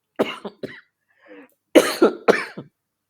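A short burst of coughing, several sharp hacks in two quick clusters separated by a quiet pause, close and fairly loud.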